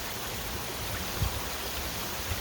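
Stream of water at a trail crossing near Wilson Falls, a soft, steady rushing wash with a couple of faint low thumps, fairly quiet and continuous.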